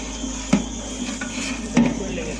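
Nuts stir-fried in a pan for a chicken roast, with two distinct scraping knocks of a spatula against the metal pan over a soft steady hiss.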